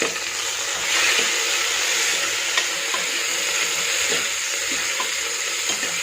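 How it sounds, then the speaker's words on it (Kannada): Chopped tomato hitting hot oil with onion in a tempering for sprouted horsegram sambar, giving a steady, close sizzle and crackle that runs throughout, with small stirring clicks and no talking. "ಈಗ ಇದಕ್ಕೆ ಸಣ್ಣ ಕಟ್ ಮಾಡಿರುವಂಥ ಒಂದು ಟೊಮೆಟೊ ಸೇರಿಸ್ತೀನಿ"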